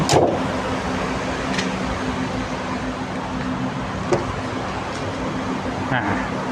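A used green-yellow taxi running on NGV fuel idles with a smooth, steady engine hum close by, with a few faint clicks over the constant drone.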